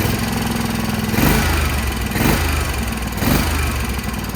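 A 16-liter CAT diesel engine in a Peterbilt 379 truck idles roughly and loudly up close, its uneven chugging swelling in three bursts of revving, with no talking.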